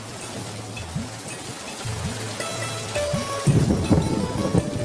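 Rain pours steadily in a cartoon village scene, with deep rumbles of thunder rolling through and a louder burst of downpour near the end.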